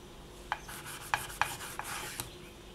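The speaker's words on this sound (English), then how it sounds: "And then just grab that sandpaper again and just sand that" Sandpaper rasps against a polymer clay pendant in short, sharp strokes, several distinct scrapes spaced unevenly over a low background hum, close and fairly quiet.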